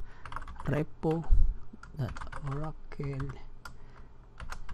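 Computer keyboard typed on in quick bursts of clicking keys, heard under someone speaking close by.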